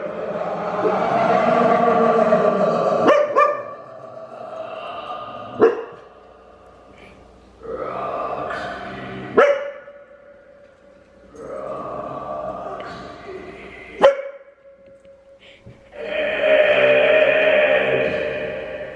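A dog barks and whimpers repeatedly in a house during loud karaoke, sharp barks punctuating bursts of amplified singing and music, with gaps between, fairly close.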